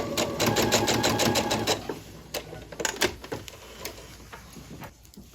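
A sewing machine stitching a quilt block seam runs in a fast, close mechanical whir for under two seconds, then stops, leaving scattered clicks and handling sounds as the fabric is adjusted.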